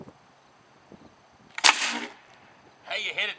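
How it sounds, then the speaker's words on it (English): A homemade PVC air gun fires a nail dart through 1-inch plywood at 75 psi, giving one sharp, loud crack with a short rushing tail, followed a moment later by a second burst of noise. "shooting through the 1-inch plywood at 75 psi"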